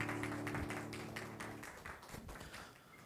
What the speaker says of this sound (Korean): 우리 마지막으로 격려와 축하의 박수하고 들어가세요